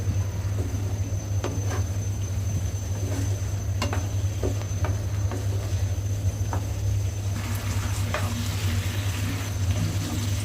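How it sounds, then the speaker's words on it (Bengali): Chicken is stir-fried with tomato sauce and soy sauce, a continuous close sizzle over a low steady hum, with scattered taps of the spoon as the pieces are mixed through. "চিকেনগুলোকে এর সাথে ভালো করে মিশিয়ে কষিয়ে নেব।"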